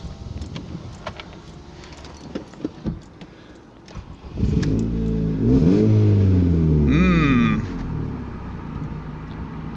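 A Ford Focus estate idles on a rainy day with exhaust problems and a misfire. It starts with rough, uneven rumbling, then revs and holds a louder droning note, with a brief rattly whine near the end.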